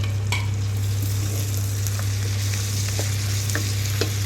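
Constant close sizzling and crackling of a hot pan of mutton stew, with occasional light pops and soft clicks as a chopped tomato is added and stirred, with no talking.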